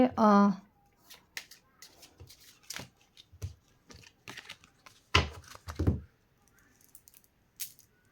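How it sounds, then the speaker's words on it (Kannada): A deck of cards shuffled during a candle-wax love reading, heard as quick riffling rattles and soft flicks in close bursts, with a brief vocal sound at the start. "ಕಾರ್ಡ್ ಶಫಲ್ ಮಾಡ್ತಾ ಇದ್ದೀನಿ ಸದ್ಯಕ್ಕೆ"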